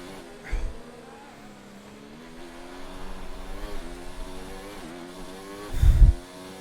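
A Formula 1 car in F1 2019 races at the Chinese GP, its engine a fairly quiet, high whine that climbs and falls with gear shifts, broken by a couple of short low thumps.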